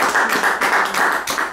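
A short burst of audience applause at a live comedy-music performance, dense clapping that swells and dips slightly over a second and a half, with no voices over it.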